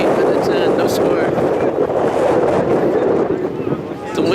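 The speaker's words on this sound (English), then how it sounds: "There's a cold wind blowing at us right now." A cold wind blows across an outdoor soccer field, buffeting the microphone with a loud, low, continuous rumble and roar that keeps going under a live match.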